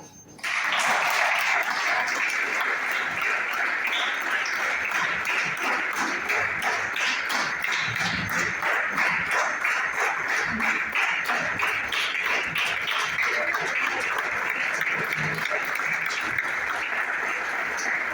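An audience at a hotel training session claps steadily for a while, with a sharp start and a dense, even clatter of many hands that keeps going without talk.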